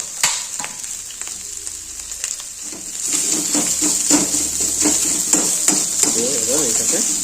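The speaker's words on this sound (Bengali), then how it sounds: "কুচিয়ে রাখা আদাটা ভাজা হয়ে গেছে এবার ভিতরে দেবো হালকা একটুখানি পেঁয়াজ" Chopped ginger and a little onion fry in a pan, with a bright steady sizzle that grows fuller after the onion goes in, marked by scraping stirs and clatter.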